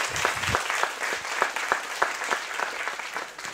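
Theatre audience applause at a university Threesis competition final, a full, sustained crowd clapping with several individual sharp claps standing out, steady and fairly loud from start to finish.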